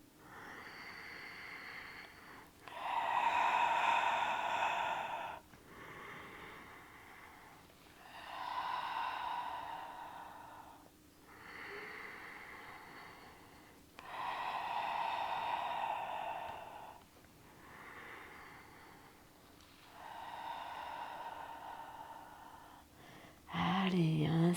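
Deep breaths during a Pilates workout rise and fall slowly, with close, airy inhales and exhales repeating about every few seconds in a calm, even rhythm.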